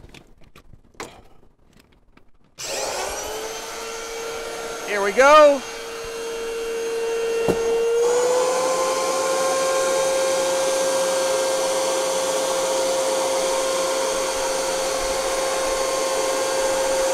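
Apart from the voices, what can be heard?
vacuum cleaner running for vacuum forming EVA foam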